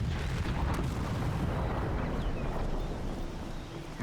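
Heavy explosions in Skyrim rumble and boom continuously, a dense low roar with blasts overlapping throughout, loud and close.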